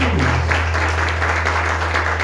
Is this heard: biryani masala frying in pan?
no